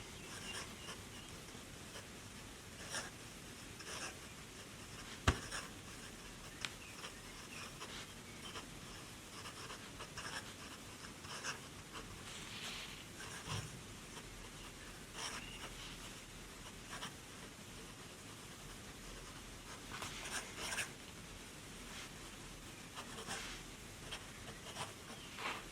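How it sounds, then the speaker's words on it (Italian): A Sailor fountain pen with a fine nib scratches softly across a Paperblanks Paper-oh notepad in short strokes and pauses, faint and close against low room hiss. "La provo con un'altra penna, con un pennino questa volta diverso, la Sailor, con un pennino fine ed un altro inchiostro."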